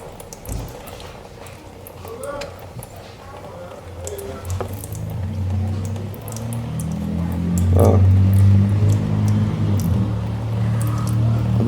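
Water drains from the engine drain plug of a seized Polaris 325 ATV, a close, steady liquid trickle that builds into a fuller gurgling pour.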